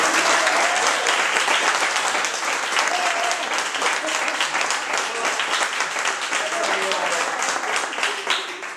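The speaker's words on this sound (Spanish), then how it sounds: "otro aplauso para ella" At a microtheatre presentation, a small audience bursts into dense, sustained applause that stays full and even for several seconds, mixed with faint crowd murmur and a few scattered voices.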